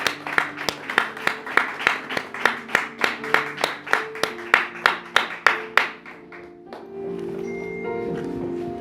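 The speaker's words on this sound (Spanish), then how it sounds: "Dale un aplauso al Señor." A church congregation claps in a steady rhythmic beat of sharp, evenly spaced hand claps for about six seconds, then the clapping stops and a sustained musical tone with a low hum carries on.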